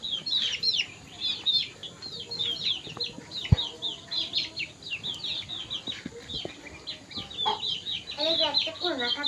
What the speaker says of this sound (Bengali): তোমার মুরগি দৌড়াচ্ছে খাওয়ার জন্য